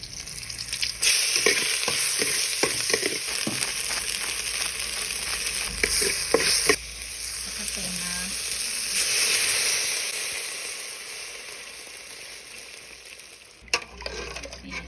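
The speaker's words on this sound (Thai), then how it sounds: "เอาลงไปผัดให้หอม" Ingredients for an Akha dish are stir-fried in a pan at home, producing a loud, steady sizzle and hiss with clusters of scraping stirs early on, then a quieter stretch, and a sharp clatter near the end.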